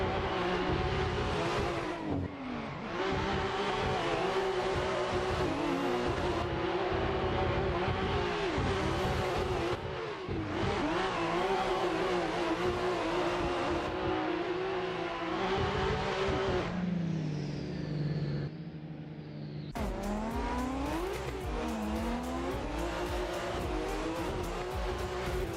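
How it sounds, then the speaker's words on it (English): Drift cars in a Top 32 competition round in Ireland, engines screaming near the limiter with constant revving and tire squeal, loud and close throughout, with pitch dips at shifts and a brief quieter moment before the noise returns. "Picking up that throttle, a little bit of contact there in turn 1 from Daniel Andreev"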